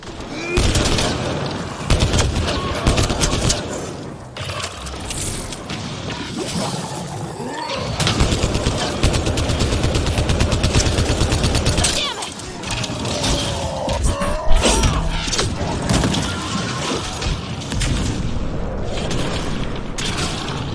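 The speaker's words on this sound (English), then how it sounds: "Heavy artillery! Watch out!" Heavy artillery booms and rapid gunfire crackle through a loud, dense battle in the video game Mass Effect Andromeda, with bursts, blasts and mechanical noise layered over a continuous roar and brief shouted voices.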